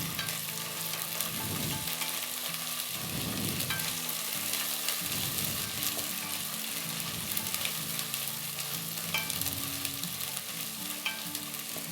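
Ginger garlic paste frying and being stirred in a pan for a moong dal khichdi, a steady close sizzle with repeated scraping strokes of the spoon throughout.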